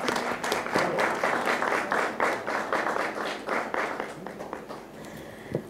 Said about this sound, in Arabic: واو برافو برافو تصفيق على روحك